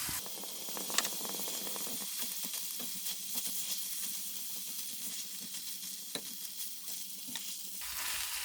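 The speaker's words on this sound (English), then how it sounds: "When the moisture is gone and the oil starts sizzling" Red pepper powder sizzles in hot oil on a cooking stove, giving a steady close frying hiss with small crackles and occasional stir clicks throughout.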